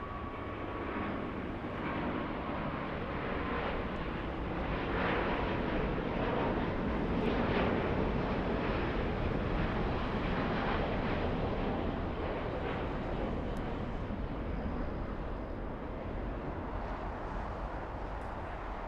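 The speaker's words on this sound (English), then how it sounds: "Wow, big one. Let's go for the A350." An Airbus A350 jet passing near LAX, a loud broad engine roar that swells toward the middle and slowly fades, heard outdoors with no talking.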